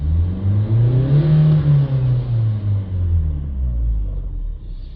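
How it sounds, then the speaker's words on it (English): A Renault Trafic van engine revs up loudly with a deep rumble, holds high, then winds down slowly as the revs fall away. "So let's give it some revs."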